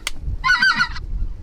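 White-fronted goose, a speckle belly, honking nearby during a Louisiana duck hunt: a quick burst of several loud, laughing yelps, heard alone in the open.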